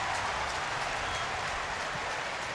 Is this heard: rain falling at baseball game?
yes